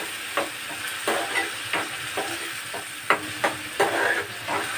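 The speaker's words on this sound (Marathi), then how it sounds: "मी छान गोल्डन ब्राऊन कलर होईपर्यंत परतून घेऊया" Onions fry gently on low heat in a pan for a restaurant-style paneer masala, with a soft continuous sizzle and regular scraping stirs recurring every half second or so.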